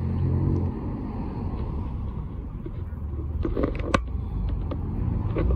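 A yellow Lamborghini Revuelto supercar rumbles as it leaves Supercarfest, a low throaty engine drone building slightly, with brief sharp clicks and outdoor crowd noise.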